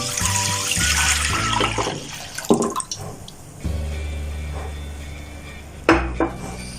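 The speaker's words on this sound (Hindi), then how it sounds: "सबसे पहले पैन में दूध ऐड करते हैं।" Milk is poured into a pan to make rice kheer, with a liquid splashing and gurgling up close. Metallic clinks and knocks of the pan come through intermittently, and no voices are heard.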